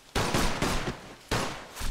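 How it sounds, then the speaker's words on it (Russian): Gunfire in the crime video game Mafia 2: three loud bursts of rapid, close shots, each lasting a fraction of a second, with brief pauses between them and no talking. "Наверняка все слышали выстрелы."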